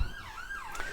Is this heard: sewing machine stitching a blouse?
no